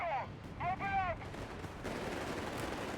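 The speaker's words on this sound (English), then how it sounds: "we got the Panzer busy with the riflemen here, ripping them apart with machine gun fire" Machine gun fire crackles in a Company of Heroes 3 battle, turning into a dense, continuous rattle after a brief stretch of softer combat noise.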